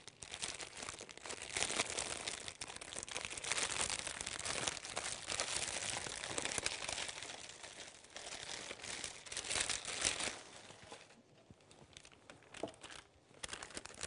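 A plastic piping bag is handled up close for filling with cream, giving steady soft crinkling and crackling that thins out toward the end.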